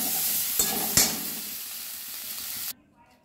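Potato and papaya frying in a pan, a dense sizzle with a couple of sharp stirring scrapes before the sound cuts off abruptly near the end.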